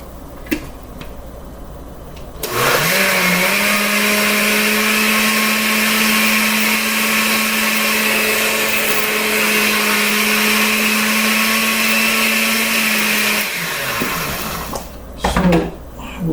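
A kitchen blender whirs steadily at full speed for about eleven seconds, blending vegetables with carrots for juice, then spins down to a stop; loud and close, with brief clatter at start and end.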